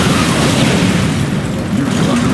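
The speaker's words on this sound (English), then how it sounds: "Target verified. Bombing run initiated." A bombing run explosion in Command & Conquer 3: Tiberium Wars, a loud, sustained, rumbling boom that fills the whole moment with dense low roar and no clear breaks.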